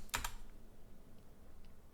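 A few quick keystrokes on a computer keyboard at the start, close and crisp, then near silence with faint room noise.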